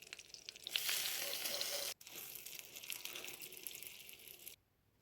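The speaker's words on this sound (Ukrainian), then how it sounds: "І смажимо під кришкою на маленькому вогні" Loud, steady sizzling of lavash stuffed with minced meat frying in oil in a covered pan over low heat, briefly interrupted once, then cutting off abruptly near the end.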